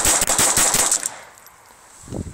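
A gun jams, then empties a magazine in a rapid, loud burst of automatic fire lasting about a second, followed by a fading tail and a low thump.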